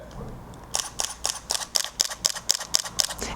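A camera shutter fires about eleven crisp mechanical clicks in a quick, even burst after a short quiet lead-in, close to the microphone.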